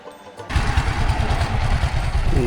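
A power tiller engine driving paddy threshing on a riverside char in Manikganj starts up abruptly and runs loud and close with a steady, rough low thumping rhythm that carries on to the end.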